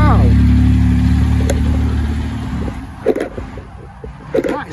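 Porsche 996 GT2 Club Sport engine running loud and close with a deep steady drone that fades after a couple of seconds, leaving faint voices nearby.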